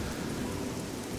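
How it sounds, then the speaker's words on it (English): Steady rain pours down in the town of Leyawiin in the game Oblivion, a dense, even hiss of falling water that holds constant and close for a brief moment, with no voices. "It's a warm rain."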